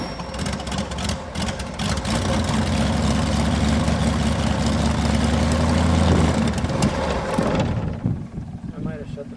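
A Rotec R2800 radial aircraft engine bursts into life on its first start, a loud, dense, throbbing rumble with a rough pulsing beat that holds steady close by, then cuts off and dies away near the end, with voices heard over it.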